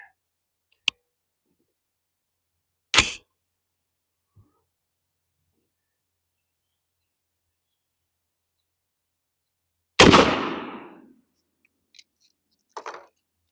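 A single 5.56 Critical Defense 55-grain round fires from an 11.5-inch barrel: one loud, sharp report with a short fading tail, set among a few faint clicks and knocks in otherwise quiet surroundings.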